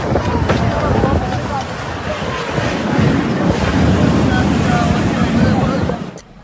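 A violent storm lashes the Great Mosque area in Mecca, with loud roaring gusts battering the microphone and a dense rush of wind and rain, indistinct voices buried underneath, before the sound cuts off abruptly.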